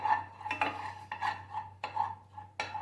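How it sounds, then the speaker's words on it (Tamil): Garlic and onion are sautéed for lasagna while a metal spoon scrapes and taps around the pan in several distinct, close strokes over a faint low hum. "அந்த ஆனியனையும் போட்டு அண்ட் இப்போ வதக்கிட்டு"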